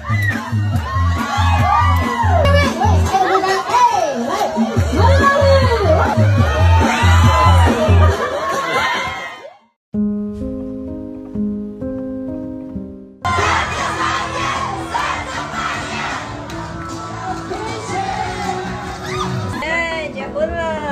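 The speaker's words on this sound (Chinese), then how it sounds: "掌声加尖叫" Guests at an Indigenous wedding reception erupt in cheering, whoops and excited screaming over loud rhythmic dance music, then a short pause with melodic tones before another burst of shouting and music, all loud and close.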